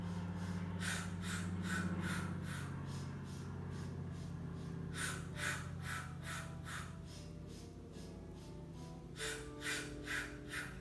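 Deep rhythmic breathing during a Pilates exercise, with three sets of quick, forceful sniffing inhalations and exhalations, close and clear over a steady low hum.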